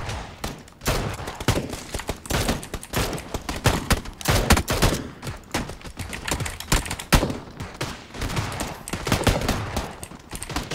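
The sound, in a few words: gunfire in a video game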